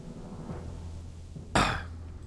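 A single sharp cough from someone close to the microphone, bursting out of a quiet room hum while they play WoW Classic, then trailing off quickly.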